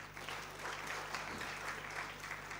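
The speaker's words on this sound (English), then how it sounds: "Can we clap for Bank of Uganda?" An audience at an East African capital markets conference gives warm, steady applause that fills the room, heard from some distance, with no talk.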